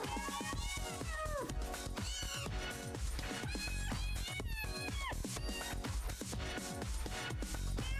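Cats meow in a steady stream in the Jingle Cats video game, their pitched cries set to loud, continuous backing music with no pauses.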